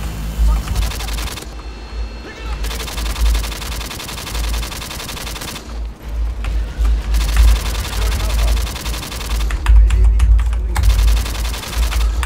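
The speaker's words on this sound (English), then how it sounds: "It's a little too staticky sounding when you shoot it." Gunfire in the shooter H2M, rapid automatic bursts with a harsh, staticky crackle, broken by a few short pauses, with a player talking in places.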